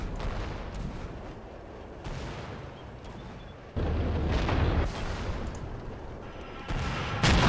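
A tank fires HE rounds in a Red Rising Iraq War 2003 mod battle, heavy booms landing at irregular intervals over a constant rumbling background of distant combat.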